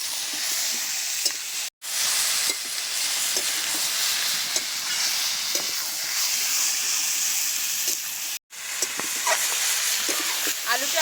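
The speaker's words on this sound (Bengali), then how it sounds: "আলুটা আমি আলাদা করে ভেজে নিয়ে একেবারে মাংসের সাথে কষিয়ে নিচ্ছি।" Chicken meat and pre-fried potatoes sautéing together in a pan over a strong flame, a steady loud sizzle with intermittent stirring scrapes, broken by two brief silent gaps.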